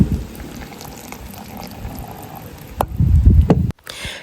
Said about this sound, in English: this is the melted mixture, so I'm just gonna pour it in